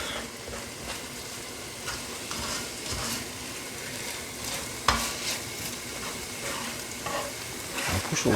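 Onion and chilli fry and sizzle in a pan for a Ghanaian stew, a steady close hiss with occasional stirring clatters and a brief louder knock midway.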